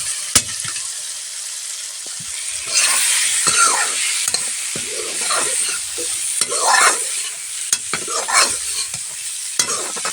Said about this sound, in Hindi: तो अब हम इसमें डाल दे रहे हैं आलू।